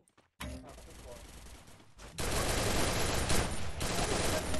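Gunfire in a video game shootout, bursts of rapid automatic fire that start faintly and then turn louder and denser in the second half.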